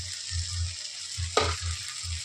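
Tamarind and salt fry in hot oil, a steady bright sizzle with a few soft stirring scrapes and one sharper spatter midway.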